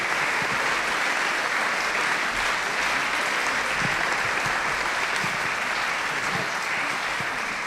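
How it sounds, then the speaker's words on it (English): An audience gives a loud round of applause at an evening conversation event, with continuous dense clapping from many hands holding steady for several seconds. "So if you could give him a big round of applause."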